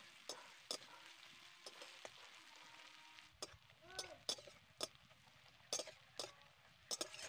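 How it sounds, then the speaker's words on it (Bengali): Sliced onions frying softly with salt in a pan, a low gentle sizzle punctuated by sharp spatula clinks and stirring taps against the pan, quiet and close. "এবার পেঁয়াজগুলোকে আমি নরম করে ভেজে নেব, একদম কিন্তু লাল করে ভাজবো না"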